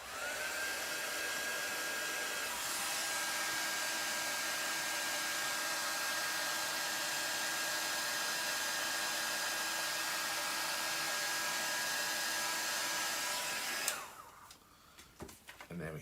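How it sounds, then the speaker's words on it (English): Heat embossing tool blowing hot air to melt and set embossing powder on a stamped card, a steady loud whirring hiss running continuously for about fourteen seconds, then cutting off abruptly into quiet handling noises. "So I'm going to heat set this now, and I'm just going to heat tool,"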